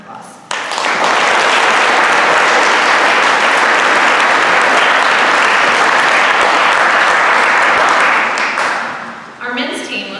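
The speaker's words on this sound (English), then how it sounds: "Let's give them a round of applause." A high school awards banquet crowd gives a long, loud round of applause that starts abruptly, holds steady for about eight seconds, then fades out. A voice follows at the very end.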